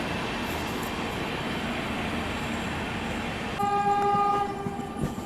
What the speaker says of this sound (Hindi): यहाँ पे एक स्पेशल ट्रेन को प्रायोरिटी देते हुए उसको पहले निकाला जा रहा है